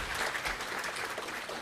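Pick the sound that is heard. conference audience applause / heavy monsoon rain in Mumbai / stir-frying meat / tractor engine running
conference audience applause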